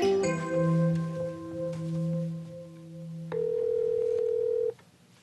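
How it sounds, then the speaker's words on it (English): A telephone on a children's show sounds a string of steady electronic tones, a chord of held pitches shifting partway and then a single clear dial-style tone before it cuts off. "I'm going to call Mayor Ben on the Zoobel phone"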